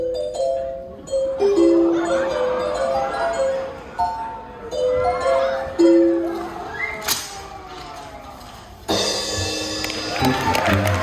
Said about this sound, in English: I just need a little Jack in the Box music